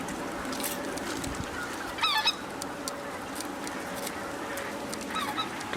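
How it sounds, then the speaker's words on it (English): Two swans call as they fly in over public land during a goose hunt, giving a brief cluster of honking calls, with fainter calls near the end, distant against a steady outdoor background. "Yeah, definitely 2 swans coming in."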